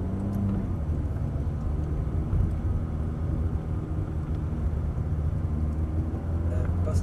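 A Ferrari F430 F1 engine pulls out of the pits at low speed, a steady low drone with harmonic bands holding even and fairly close throughout, without a strong rev rise.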